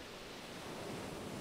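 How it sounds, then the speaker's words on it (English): Gentle ocean waves rolling in at an evening shoreline, a continuous soft roar of surf with no distinct breaks and no voices. "as you're listening to the gentle waves coming in"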